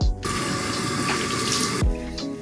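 Water runs from a bathroom tap in steady, strong gushes while a face is rinsed, starting and stopping abruptly with no voices.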